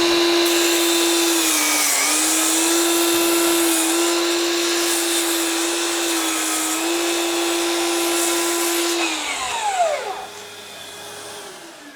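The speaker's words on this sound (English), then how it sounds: "So I'm just going to do a straight cross cut with this one, nice and simple, turn the extractor on," A DeWalt DHS780 FlexVolt 54V mitre saw makes a straight cross cut while a dust extractor runs. A steady high motor whine holds throughout, with slight dips under load, then spins down near the end.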